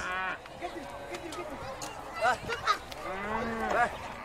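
Cattle low and moo repeatedly at a crowded livestock market in Kenya's Mandera–Wajir border region, several drawn-out calls near and far amid voices and busy crowd noise.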